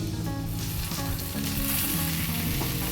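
Taro frying with spices in a pan, a loud, continuous close sizzle with repeated stirring scrapes running through it.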